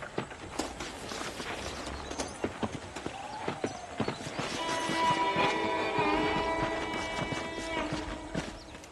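Horse hooves clip-clop steadily in Red Dead Redemption, a rhythmic run of close, crisp hoofbeats with some game ambience and tonal background layered in, no talk over it.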